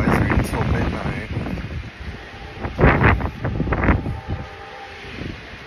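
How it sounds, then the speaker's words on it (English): Strong wind outdoors during a wind advisory buffets the microphone in loud rushing gusts, with several stronger surges, while a person talks over it. "The hell's with all the wind? Oh, we're under wind advisory until midnight."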